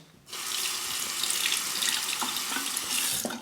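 Tap water gushes steadily into a sink to rinse a safety razor fitted with a Bic Astor blade, a constant close hiss starting abruptly and running alone.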